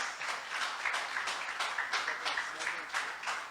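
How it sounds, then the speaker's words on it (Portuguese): A church congregation at a Sunday service applauds to welcome Pastor Adriano, with steady, dense clapping sustained throughout at moderate volume. "vamos receber o pastor Adriano aplaudindo e celebrando"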